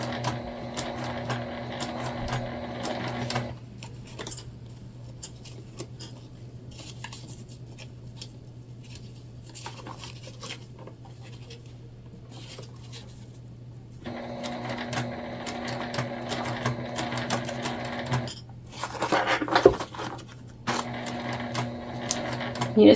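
Sewing machine stitching a sling bag, a steady mechanical hum and rapid needle clatter at the start and again near the end, with a quieter stretch between where someone speaks.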